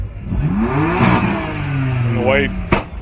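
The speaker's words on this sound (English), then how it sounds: "the white Beamer's the one that's farting away there" A white BMW revs at a street car meet, its engine rising in a rough, sputtering climb of pitch, then a sharp crackle near the end, close and loud.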